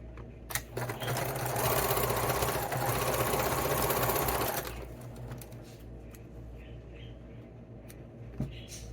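A sewing machine stitches fleece hat bands together, running loud and steady for about four and a half seconds before dropping to a quieter hum with a few faint clicks.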